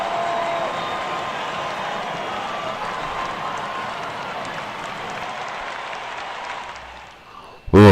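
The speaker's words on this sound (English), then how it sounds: "I might have to turn down that crowd a little bit" Crowd noise in OOTP 24 baseball gameplay swells as a dense, steady roar of cheering and applause, fading slightly near the end before a sudden loud thump cuts in.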